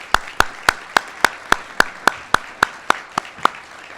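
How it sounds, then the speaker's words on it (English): Slow, evenly spaced clapping at a utility company's centennial celebration and annual meeting: about fifteen sharp, distinct claps at a steady beat, close and fairly loud, sounding like one or a few people rather than a full crowd. "Would you please give them a hand of applause"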